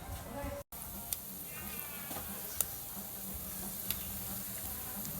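Food sizzles while cooking in a quiet, steady hiss, with a few faint clicks and knocks of utensils and soft voices in the background.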